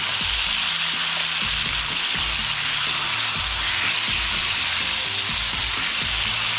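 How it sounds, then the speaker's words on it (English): Beef steak sears in oil in a hot pan, a constant loud sizzle with bursts of crackling and low clunks of the pan or utensil throughout, no voices. "we're going to flip this steak over now."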